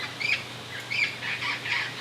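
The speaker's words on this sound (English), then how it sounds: "You hear that bird?" Outdoors on a cycling ride, a bird gives a string of short, high, squeaky chirps in regular pairs, fairly faint over a quiet background hum.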